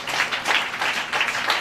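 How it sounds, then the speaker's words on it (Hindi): A church congregation claps hands together, several short bursts of rhythmic applause coming in quick succession, fairly loud and close. "ताली बजा के प्रभु का धन्यवाद करें,"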